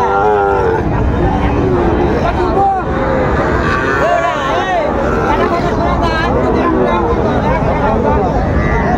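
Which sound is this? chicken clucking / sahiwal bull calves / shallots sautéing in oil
sahiwal bull calves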